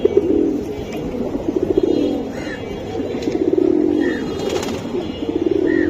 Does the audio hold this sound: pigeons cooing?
yes